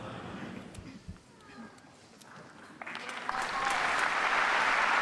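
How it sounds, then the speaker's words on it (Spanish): Crowd of faithful applauding Pope Francis at the general audience in the Paul VI Audience Hall, applause swelling from scattered clapping to a sustained, dense ovation filling the large indoor hall. "El aplauso al Santo Padre de los fieles presentes en el aula Pablo VI"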